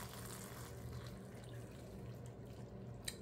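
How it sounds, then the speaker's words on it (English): Hot water poured over guajillo chiles in a kitchen, a faint continuous splashing and trickling stream, steady and quiet throughout. "I'm gonna cover them all the way to the top with hot water"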